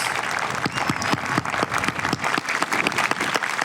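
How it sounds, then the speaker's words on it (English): Audience at a 2025 high school graduation ceremony applauding the graduates, a steady, dense wash of clapping with individual claps popping through, sustained evenly for several seconds without speech. "Let's give our graduates a round of applause of their courage and perseverance."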